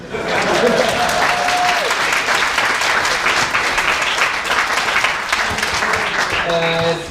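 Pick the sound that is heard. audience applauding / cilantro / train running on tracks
audience applauding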